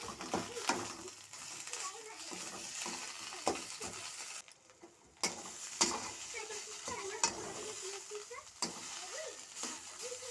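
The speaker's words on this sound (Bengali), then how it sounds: "দিয়ে এটা ভেজে নেব ভালো করে" Cauliflower-leaf paste with garlic and a little sugar fries in a pan, giving a steady close sizzle broken by repeated stirring scrapes and clinks of a utensil, with faint voices now and then.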